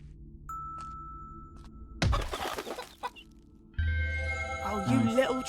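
Chickens cluck in a medieval survival city-building god game: a few short clucks, a sharp burst of flapping and squawking, then a tonal musical jingle under more clucking, all close and clear.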